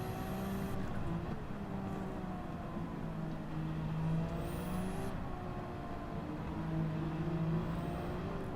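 Nissan GT-R engine in a video game race, a steady sustained drone with shifting pitch as the car holds speed, loud and alone with no talk.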